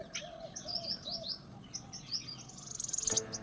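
Birds chirp and tweet in short bright bursts, several calls overlapping at moderate distance, with a louder rapid trill near the end.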